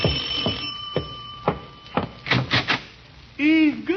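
A doorbell in an old radio comedy rings in short chimes and buzzes, several bursts spaced about half a second apart, then a longer warbling ring, loud and close with no talk over it.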